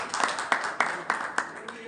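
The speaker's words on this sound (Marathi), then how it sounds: "टाळी वाजवून स्वागत करू." Audience clapping at a student felicitation ceremony, a run of sharp, irregular claps from a nearby crowd over roughly two seconds.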